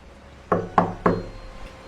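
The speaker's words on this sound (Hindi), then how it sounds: "दरवाजे पर अचानक दस्तक हुई।" Three sharp knocks on a wooden door, evenly spaced and close, sudden against a quiet background.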